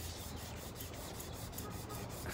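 Sandpaper rasps back and forth across the body of a 2002 Toyota Corolla in steady, regular strokes, close and continuous.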